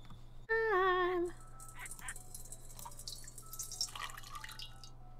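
A honking, warbling bird-like call opens, then a run of small water drips and splashes from hand-washing in The Sims Medieval, over a faint steady hum.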